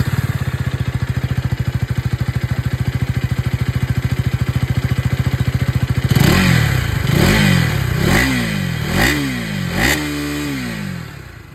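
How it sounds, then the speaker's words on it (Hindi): A 250cc motorcycle with an underbelly exhaust idles with a steady close throb, then is revved in several quick blips, each a rising-and-falling roar, before dropping back toward idle. "चलिए अब मैं आप लोगों को इसकी जो एग्जॉस्ट साउंड है वो भी सुना देता हूँ।"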